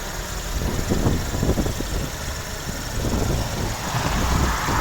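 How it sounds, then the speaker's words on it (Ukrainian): A 2012 Skoda Octavia A5 1.6 MPI petrol engine idles steadily close by, a low rumble with irregular low-frequency pulsing and a constant hiss, no voices. "дуже добре працює двигун"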